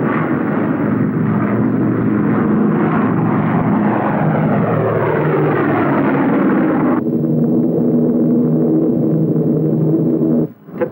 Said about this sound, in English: switch the manless controls of the drone aircraft to a mother plane aloft